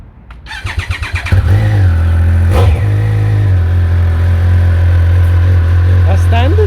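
Standard Triumph motorcycle with stock exhaust cranking briefly, then catching and settling into a loud, steady idle close by, with a short blip of revs partway through.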